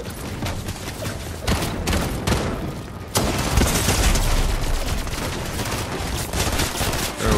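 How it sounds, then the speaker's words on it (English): Sustained heavy gunfire in a Fortnite ranked match, with a rapid fusillade of overlapping shots and bursts that runs loud and nearly continuous for the whole stretch, with no talk over it. "we're getting shot at from the wall"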